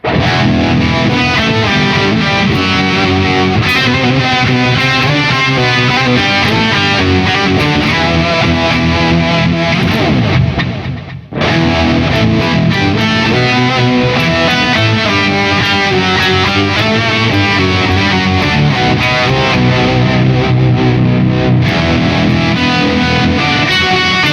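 A loud, heavily distorted electric guitar with an octave effect from a Fractal Axe-FX III plays continuously with a thick, doubled tone, briefly cutting out midway before resuming.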